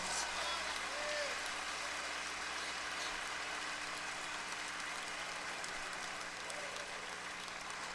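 A congregation at an evangelical church service applauds in a sustained, dense wash of clapping that stays fairly distant and even throughout.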